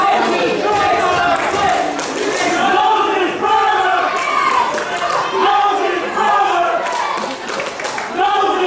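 Wrestling arena crowd at the Landmark Arena chanting loudly for Marcus Adams, a dense, rhythmic mass of voices rising and falling in waves throughout, with scattered claps and shouts mixed in.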